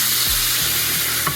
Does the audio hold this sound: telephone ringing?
no